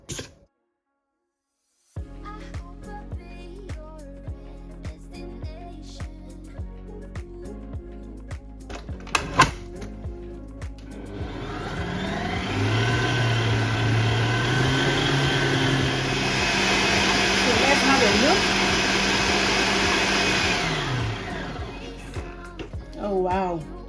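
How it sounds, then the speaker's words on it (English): An electric mixer whirs through Victoria sponge cake batter, starting about halfway in with a steady hum that builds to a fuller churn. Scattered clicks and handling noises come before it. "continue to mix this on for about 10 minutes before adding the rest of the ingredients"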